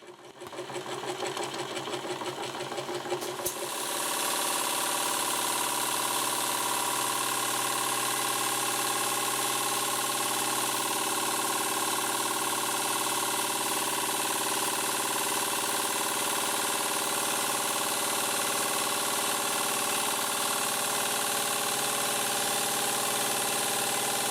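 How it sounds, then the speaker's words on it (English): The transmission of a model steam launch runs with a steady, dense mechanical whir that sets in after a brief start-up and continues evenly without any voices. "you will be able to hear how the transmission gets quieter"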